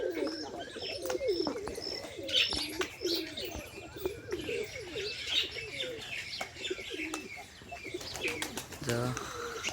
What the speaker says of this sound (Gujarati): કબૂતર છે બીજા કબૂતર ઉડવા ગયેલા છે